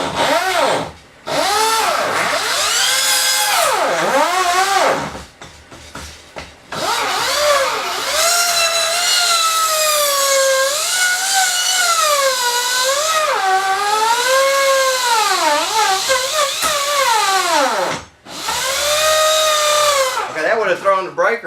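Skilsaw motor powered by 12-volt batteries whines at length with a strongly rising and falling pitch as the load changes, loud and close, briefly stopping twice before spinning up again, with someone talking over it.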